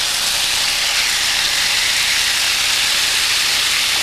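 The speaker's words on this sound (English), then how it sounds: "Oh, listen to that sizzle." Steady, loud broadband sizzling hiss of swordfish searing on a George Foreman electric grill, continuous throughout with no pauses.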